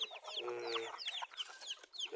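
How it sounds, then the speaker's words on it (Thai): A mother hen clucks and chirps in short repeated bursts, close by, with a few higher chick-like peeps mixed in. "แม่ไก่ดูแลลูกดีๆหน่อยนะ"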